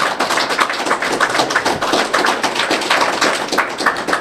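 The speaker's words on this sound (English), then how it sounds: "Y'all give a round of applause." A podcast audience gives a round of applause: dense, steady clapping from a group of people, fairly loud and close, continuing evenly for several seconds with no talk over it.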